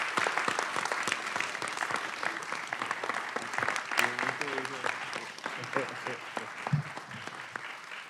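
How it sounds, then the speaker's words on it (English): Audience at a Fulton County Board of Commissioners meeting applauding on Appreciation Day: sharp, dense clapping from a roomful of people that carries on for several seconds, with faint voices mixed in. "Let's give them a big round of applause."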